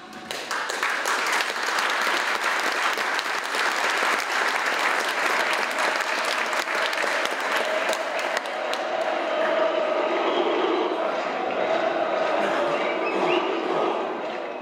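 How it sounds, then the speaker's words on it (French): Members of an assembly applaud in support of protesters, a long, dense, even wash of clapping that softens in the last seconds as a voice rises beneath it. "des applaudissements de soutien envers les manifestants"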